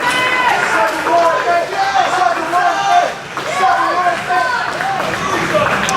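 A hyped wrestling crowd at a Warriors of Wrestling Hostile Takeover event on Staten Island, loud cheering and chanting swelling in waves, with a commentator talking over it.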